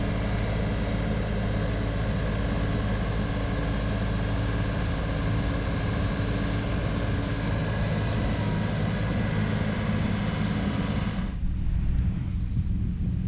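Tractor engine running steadily while dumping soil into a garden box for planting blueberry bushes, a continuous loud rumble that cuts off sharply near the end.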